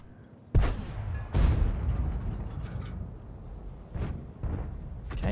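Tank main guns firing in a World of Tanks battle: two sharp, loud booming shots close together near the start, followed by rumbling battle ambience and two softer distant bursts later.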